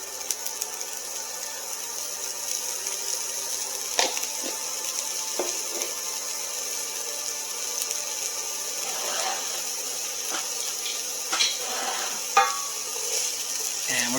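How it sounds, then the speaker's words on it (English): Diced red onion sweats in olive oil for sardine spaghetti, giving a soft, steady sizzle at moderate distance, with a few light clinks and stirring touches and no speech. "we're just going to let that sweat for a bit in that oil"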